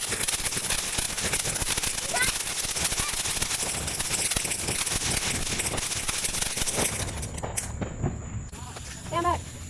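Walmart Blast Zone consumer fireworks exploding in a dense, continuous run of loud crackling bursts and pops for about seven seconds, then thinning into scattered, fainter reports.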